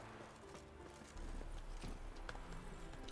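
The horse in the video game The Witcher 3 moves with a quick run of hoofbeats, fairly faint, against a low game soundscape.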